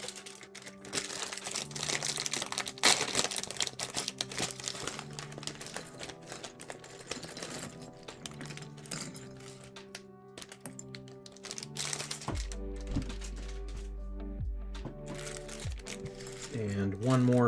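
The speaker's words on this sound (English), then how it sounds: "And once again, Lego plastic bag ASMR." Plastic bag of LEGO pieces crinkles and rustles close up, with dense, irregular crackling throughout and a few low thuds near the end.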